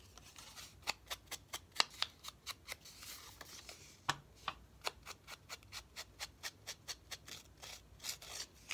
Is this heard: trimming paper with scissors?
yes